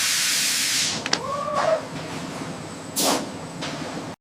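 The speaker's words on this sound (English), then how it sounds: "A steam treatment sets the color and texture." Steam blasting onto crocodile skins during finishing in a leather factory, a loud continuous hiss at the start that cuts off, followed by a brief squeak and a second short burst of steam, under steady machinery background.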